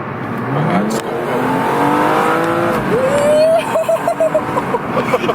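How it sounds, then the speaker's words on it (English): A tuned BMW M235i engine revs hard as it accelerates, its pitch climbing, then the exhaust gives off a burst of crackling, fizzing pops as the throttle eases. "You can hear the exhaust fizzing."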